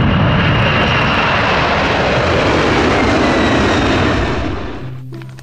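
A large cargo airplane's engines roaring loud and steady, the broad rumble holding for several seconds before fading away at the end.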